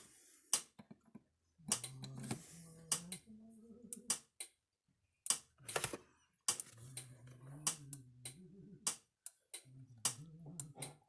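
A Speedrite 2400 electric fence energizer under repair gives sharp, evenly spaced clicks at close range, each a short crisp tick, with a person talking between them.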